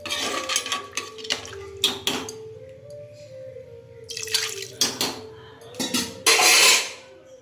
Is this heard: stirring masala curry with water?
yes